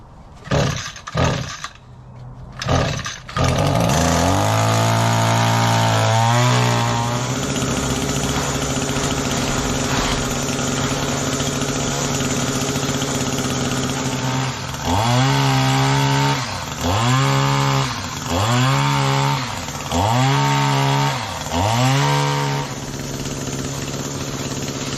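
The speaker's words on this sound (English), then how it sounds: "I've had this extended head trimmer for about 5-6 years." An extended head trimmer cuts back garden plants outdoors, its small engine droning loudly and revving up and down in repeated surges as it cuts, close by with no talk.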